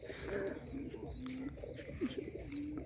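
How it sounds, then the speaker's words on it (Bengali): Pigeons coo softly in low, rolling calls while feeding their chicks, a steady run of repeated coos close to the microphone over a faint background hum. "দেখুন কবুতরের শব্দ হইতেছে বাচ্চারে খাবার খাওয়াইতেছে"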